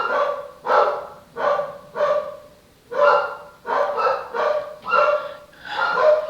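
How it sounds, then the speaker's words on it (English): Dogs bark indoors in a steady series of about nine loud, close barks, evenly spaced at roughly one per second, with no talking over them. "sorry, my dogs are barking at something."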